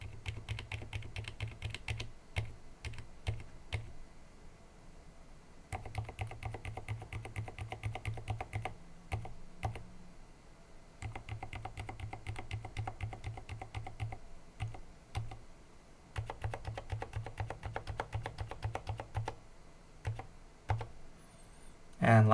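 Fast, steady typing on a mechanical keyboard fitted with lubed silent linear switches and TX 65 gram springs, soft muted clacks in continuous bursts with brief pauses between runs, close and dry.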